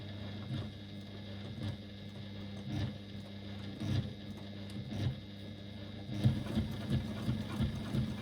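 A sewing machine top stitches around the curves of a bag flap, running in a steady low mechanical whir with rhythmic thumps that quicken near the end, close and moderately loud.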